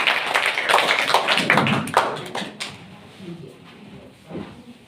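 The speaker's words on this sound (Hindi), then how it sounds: "सभी बच्चे तालियां बजाकर स्वागत करें।" Schoolchildren clapping at a government senior secondary school career-day event, a steady patter of hands for about three seconds that thins into scattered claps and fades, with no speech over it.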